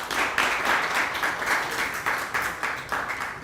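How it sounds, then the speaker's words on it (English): Steady audience applause at a college convocation ceremony, a dense continuous wash of many hands clapping with no voices over it. "Once more, a round of applause for them and their families."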